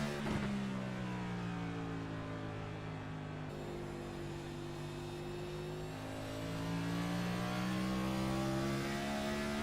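A race car engine at North Wilkesboro Speedway revs high and then climbs again, its harmonics sweeping up as the RPMs rise. The sound is moderately distant and steady, with no voices.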